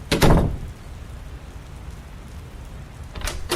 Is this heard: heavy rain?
yes